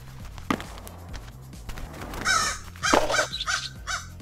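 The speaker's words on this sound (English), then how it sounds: "Some crows on this vent bridge over here." Crows cawing in the skateboarding video game SkateBIRD on a rooftop level, several harsh caws in short clusters over a quiet background, some closer and louder than others.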